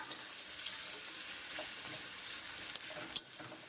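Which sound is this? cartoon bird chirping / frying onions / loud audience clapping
frying onions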